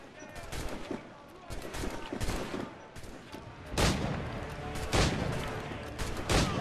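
Gunshots in the pirate game Assassin's Creed IV Black Flag, several sharp loud reports spaced irregularly over ongoing battle noise, with a player talking at times.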